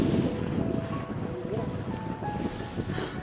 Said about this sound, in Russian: Ветер сегодня усилился очень сильно.